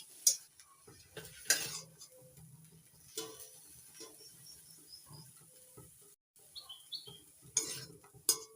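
Fried gourd leaves are lifted out of a pan with a spatula, with scattered scrapes and clinks of metal against the pan over a faint low sizzle and a few brief pauses.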